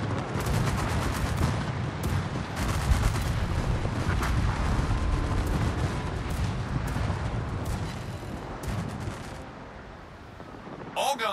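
Heavy naval artillery from the battleship Vermont in World of Warships, a dense, continuous roll of booming gunfire and explosions filling the whole stretch at steady loudness, with no speech over it.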